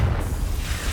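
A Confringo spell blast in Hogwarts Legacy, a short deep rumbling boom with a broad noisy burst that carries through the whole moment, loud and close.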